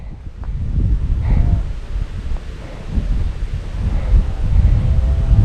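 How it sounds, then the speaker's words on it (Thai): Strong storm wind roars steadily around a Thai chula kite flying high, with gusty buffeting and rumbling microphone wind noise throughout, swelling louder toward the end. "ลมพายุนางก็ยังเอาอยู่ แต่ลมมันมั่วหน่อย ๆ"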